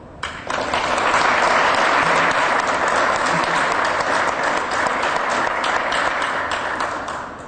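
An audience at an academic talk on behavior modeling claps to welcome the speaker, a dense, steady burst of applause that swells after a half-second and fades near the end.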